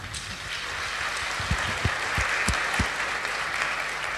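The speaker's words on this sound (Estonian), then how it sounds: "siin kohal sügav kummardus, sügav aplaus" A conference audience at an Estonian sports congress applauds, a dense, steady wash of clapping that carries on throughout, with a few sharper individual claps standing out close by.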